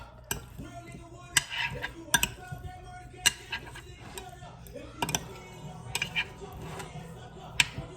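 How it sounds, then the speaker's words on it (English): A bacon casserole is stirred in a dish, producing scattered light clinks and taps of a utensil against the dish over a quiet background. "Gonna give it a nice little mixing up."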